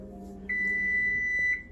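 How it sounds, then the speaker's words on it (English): A kitchen timer rings with a steady electronic beep tone that starts sharply and holds for about a second before stopping, close and clear over quiet room hum. "our timer is ringing."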